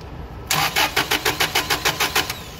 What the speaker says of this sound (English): So it's still long crank.